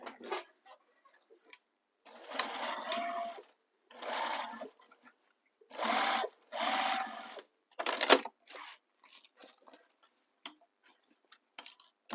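A sewing machine stitches a bag seam in several short, close bursts separated by quiet pauses, with faint handling clicks between runs.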